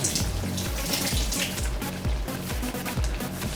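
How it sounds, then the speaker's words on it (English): A swizzle stick rinsed under a running kitchen tap, water splashing steadily and close throughout, with a rhythmic knocking of the stick against the sink. "I'm going to give it a rinse out."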